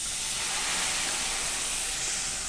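White wine poured into a hot pan of garlic and shallots, a steady loud hissing sizzle of steam rising close by with no voices.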